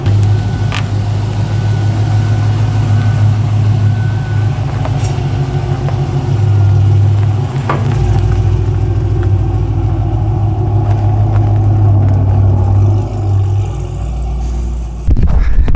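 A lowered stance car's engine runs steadily with a deep, droning low rumble while it creeps out of a garage, close and loud throughout, with faint scrapes and clicks and a slight change in pitch near the end.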